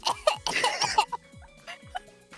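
A person imitates a baby coughing with a quick burst of small, high, breathy coughs followed by a few scattered softer ones, close to the microphone, with a bit of laughter around them.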